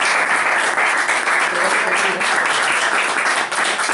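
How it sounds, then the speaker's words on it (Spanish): Audience applause at a Saturday talk and discussion gathering, a steady dense wash of many hands clapping at even loudness from start to finish. "un aplauso entonces"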